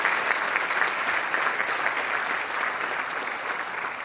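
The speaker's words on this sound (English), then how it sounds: "Let's give all of our winners a huge round of applause." Audience applause at the Los Angeles Conservancy's preservation awards celebration for the winners, steady and dense clapping throughout with no voices over it.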